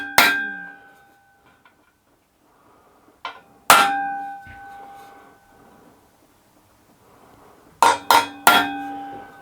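A hammer strikes a punch to pop-mark copper sheet for a model steam boiler build, giving sharp metallic clinks. Single blows ring out with pauses between them, then a quick group of three near the end.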